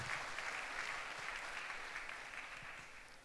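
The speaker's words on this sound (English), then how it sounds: "Please clap your hand for her." An audience at the opening of a global conference on the rights of mine victims claps for a new campaign member: steady, moderately distant applause from a large hall, gradually tapering off.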